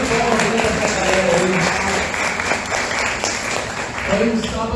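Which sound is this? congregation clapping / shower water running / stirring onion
congregation clapping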